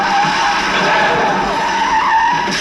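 A car skids in a movie stunt, a sustained loud tire squeal with roaring engine noise running steadily throughout.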